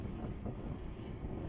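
Wind gusts rush against the microphone in a continuous low roar, with no voices.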